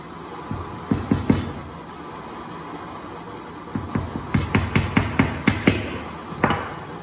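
Sharp repeated hammer strikes on a hard surface, a few scattered blows and then a quick steady run of about ten knocks, fairly close.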